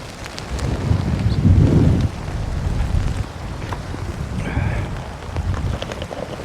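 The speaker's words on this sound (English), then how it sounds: "The rain's gone off a wee bit. It's slowed down a bit again." Rain falls outdoors by Loch Etive at Ardchattan Church, a steady close patter on surfaces mixed with gusty wind buffeting the microphone, no talk.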